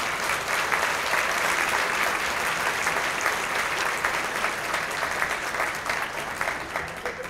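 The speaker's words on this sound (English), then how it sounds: "Let's hear a thank you applause." Sustained audience applause at an ethics awards ceremony, a dense, steady wash of many hands clapping for event volunteers, fairly loud and continuous throughout, tapering slightly at the end with no talk over it.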